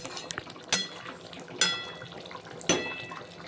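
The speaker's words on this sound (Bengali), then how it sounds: "এবার ঢাকা দিয়ে দেবো আরও একটু 2 মিনিট মতন ঢাকনা দিয়ে" A lid clinks onto a pot of simmering fish curry with kakrol: three separate sharp metallic taps spaced about a second apart over a low kitchen hiss, close by and without speech.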